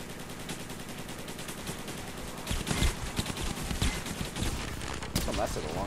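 Rapid, continuous shotgun blasts from the top-down arcade game Dead Ops Arcade in Black Ops Zombies, steady repeated firing with a voice talking over it.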